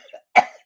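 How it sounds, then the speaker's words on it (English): A single sharp cough from a man right up close, one abrupt harsh burst after a brief quiet lead-in. "It gave me a contact cough."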